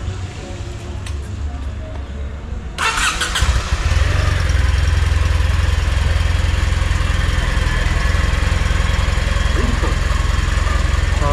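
A motorcycle engine starts up about three seconds in, then runs at a loud, steady idle close by, with only faint background noise beforehand. It is ridden on a rainy day.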